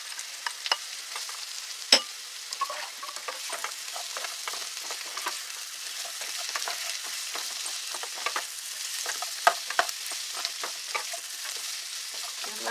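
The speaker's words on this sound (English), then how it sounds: "I'm going to add my carrots and my celery." Carrots and celery sizzling in a pan on medium heat, a soft steady sizzle broken by frequent sharp stirring clicks and scrapes of a utensil, with one louder knock early on.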